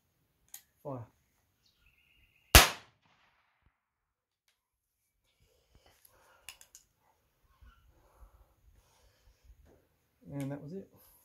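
A single 12 gauge shotgun primer fired on its own gives one sharp, loud crack, with faint handling clicks and quiet talk before and after.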